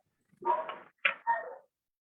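A person imitating a dog's bark with the voice, two short gruff woof-like bursts close up, the first longer and the second a quick double, with no other sound around them.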